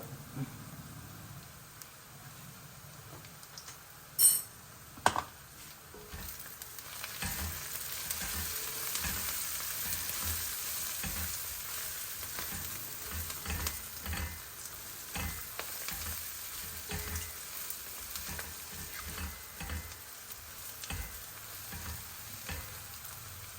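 Onions fry in a pan with turmeric and a pinch of asafoetida while a beans and tomato curry is being made. A low, steady sizzle carries on with soft stirring, a couple of sharp knocks come early on, and there is no talk.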